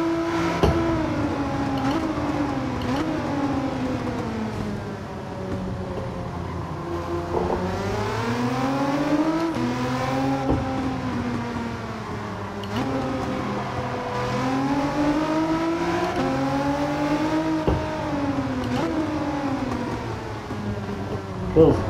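Race car engine in Gran Turismo 7, revving up and down repeatedly through gear shifts as the car laps the track, a steady engine drone with someone talking over it at times.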